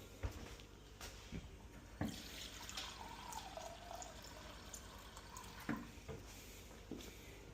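Water poured into the reservoir of a Tovala smart oven, a faint steady trickle with a few clunks of handling along the way, heard close and alone without talk.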